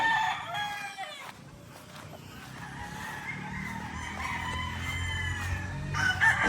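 A rooster from a flock of gamefowl crows several times, with drawn-out calls rising over steady farmyard noise and other birds clucking nearby.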